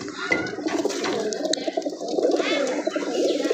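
Pigeons cooing close by in soft, repeated murmuring calls, with small clattering sounds and occasional chirps mixed in.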